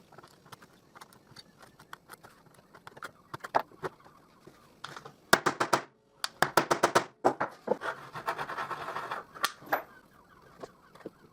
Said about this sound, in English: now I use a narrow chisel to cut 2 holes with the shape of the head